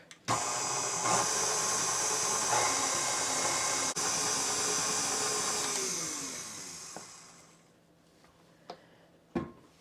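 Gingerbread dough with vanilla and molasses being mixed: a loud, steady motorized whir runs for about six seconds, then winds down and fades, leaving a few faint knocks.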